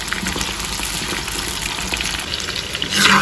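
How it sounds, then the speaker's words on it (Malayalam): Chicken pieces for honey chilli chicken fry in hot oil with a steady, close, continuous sizzle that swells louder in the final moment. "ഇതൊന്ന് കുക്കായി വരുന്ന വരെ നമുക്ക് ഫ്രൈ ചെയ്തെടുക്കാം."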